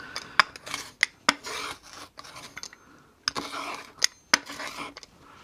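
Sharp cutting and rasping strokes as a piece of cucumber is sliced with a camping knife or cutter from supermarket camping gear, several crisp bursts spaced irregularly, close and fairly quiet with no talk.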